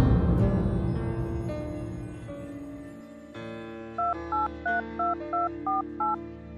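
A telephone number is dialed: after fading music, a run of about eight short, evenly spaced keypad tones beeps clearly in a steady rhythm.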